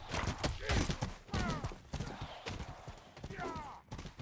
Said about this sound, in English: Oh, I see a horse.